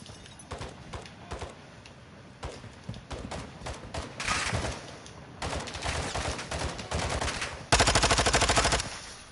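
Rapid bursts of gunfire in the video game Warzone 2.0 crackle in quick volleys, with a sustained automatic spray near the end, loud and close amid an active game soundscape.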